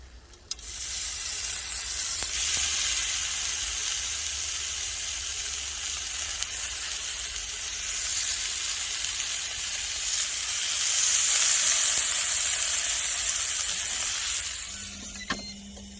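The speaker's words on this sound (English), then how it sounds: "now that we've given the broccoli a head start, let's throw the shrimp on" Shrimp and broccoli cook on a grill, giving a continuous loud hiss and sizzle that swells midway and carries on steadily, close and without voices.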